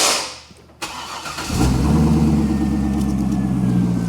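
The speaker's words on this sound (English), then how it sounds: "the engine is running" A Chevrolet Corvette engine cranks with a sharp click, catches and settles into a steady, loud, close idle rumble.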